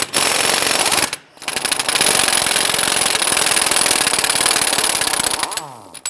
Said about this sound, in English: we're going to get loosen and remove our axle nut